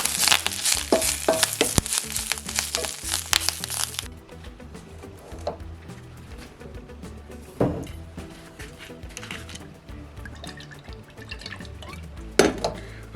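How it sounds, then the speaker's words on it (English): Kale sizzling in a pan for burritos, a steady crackle of frying under clinking of a utensil against cookware, busier and brighter in the first few seconds then settling to a quieter sizzle with occasional scrapes and taps. "probably cook off a little bit more kale, and then I'll add the ground turkey, cook that up a little bit"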